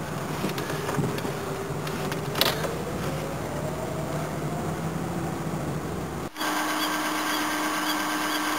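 A 1984 Toyota Cressida engine running as the car drives, a steady close drone with a slowly rising tone and a brief knock partway through, then an abrupt shift to a higher, steadier hum near the end.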